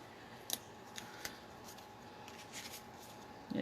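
Scissors trimming a paper craft piece, a few faint, crisp snips spread over a few seconds against a soft background hiss.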